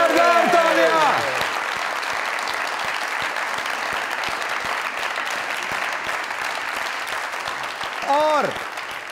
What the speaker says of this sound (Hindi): रेड कारपेट बिछाया जाए, जोरदार तालियां।